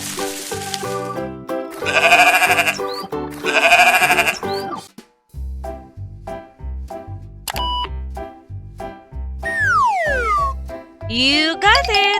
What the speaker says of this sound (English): You got it! It's a sheep.